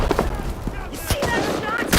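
Gunfire in the World War II shooter Enlisted during a D-Day battle, sharp shots cracking out amid busy combat noise, with voices shouting in between.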